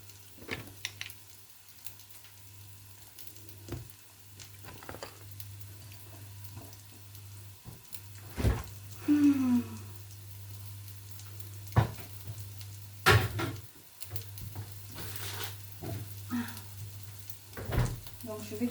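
Food sizzles and fries in a pan in a home kitchen, a steady low crackle under scattered clatter of utensils, knocks and brief splashes of running water.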